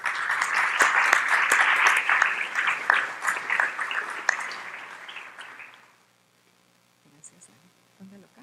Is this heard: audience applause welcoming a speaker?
yes